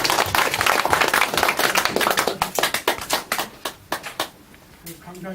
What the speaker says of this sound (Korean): 하나님 영광을 위해서 박수 올립시다.